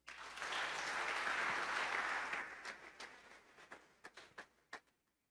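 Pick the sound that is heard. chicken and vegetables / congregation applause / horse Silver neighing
congregation applause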